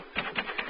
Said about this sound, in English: Elena impatiently standing at the open door, while Arnold McGuffy labors at his typewriter.